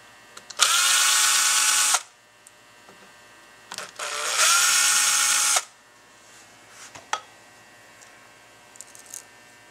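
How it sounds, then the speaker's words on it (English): A power tool, likely a drill, removes screws from a Fispa SUP150 in two loud, steady whirring bursts of about a second each, separated by quiet with faint clicks and handling sounds. "And to remove these screws, and that'll show you where the valves are."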